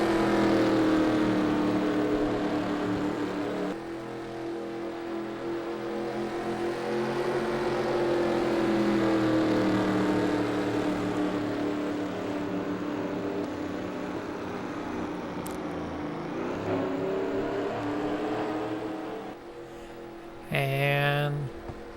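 Formula 1 race cars in a video game accelerating on a restart at the Hockenheim circuit, a steady droning engine whine that rises in pitch under continuous commentary.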